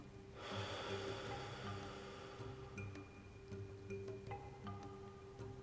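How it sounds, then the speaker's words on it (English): Breath is pushed out through the mouth during a yoga practice, a soft, close whoosh of air that rises after a brief pause and tapers away, with faint scattered ticks behind it and no talking. "letting it out through the mouth."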